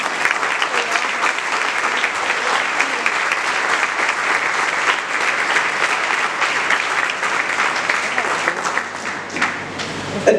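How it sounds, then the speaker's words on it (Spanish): Sustained audience applause fills a church, with dense, steady clapping from a sizable congregation held at an even level throughout and no talking over it. "dar un aplauso al Señor"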